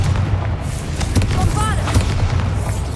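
A fiery Confringo blast spell from Hogwarts Legacy, a loud booming burst with crackling, whooshing magical tones over a dense, rumbling game soundscape, with no voices.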